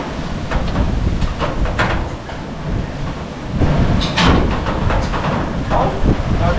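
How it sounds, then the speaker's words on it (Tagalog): Gusty wind buffets the microphone in a continuous rough roar, swelling louder in places, with faint knocks and indistinct voices underneath. "Isang hangin ah."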